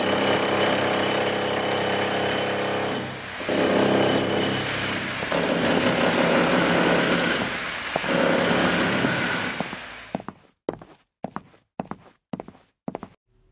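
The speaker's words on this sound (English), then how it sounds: "I have a drill now." A loud, continuous whirring drill sound effect in a LEGO stop-motion animation, running steadily with a few brief dips for about ten seconds, then giving way to a series of sharp, separate clicks and taps.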